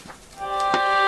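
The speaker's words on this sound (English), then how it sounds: "apologies for my phone going off there" Mobile phone notification chime, a short bright electronic tone sequence that rises clearly out of a quiet room, with a couple of faint soft knocks before it.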